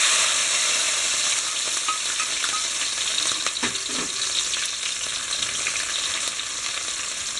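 Crushed green chillies and onion fry with popped mustard seeds for a horse gram stir-fry, a loud, constant close-up sizzle with a few brief spatters and stirring clinks.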